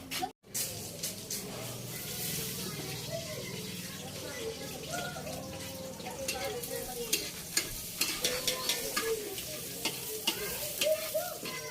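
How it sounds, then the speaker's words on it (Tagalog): Chicken sautéing in a pan for pancit at a home birthday cooking session, a steady close sizzle with stirring scrapes, while people talk in the background. "nagigisa na po ng manok para sa ating pansit"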